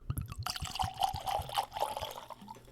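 Blackened Cask Strength American Whiskey is poured nearby, a quick close gurgling splash that runs into a steady trickle, with no talking over it.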